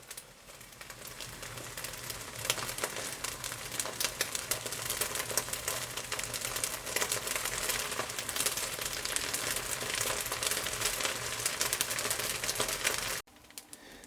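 Scorched rice (nurungji) crackling and sizzling in a pan over high heat, a dense, steady, close crackle that runs continuously before cutting off near the end.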